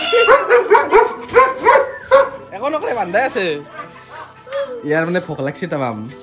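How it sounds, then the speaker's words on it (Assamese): A dog barks in a rapid run of several yips early on, close by, mixed with continuous talking at a birthday gathering. "এইফালে কুকুৰটো ভুকি আছে"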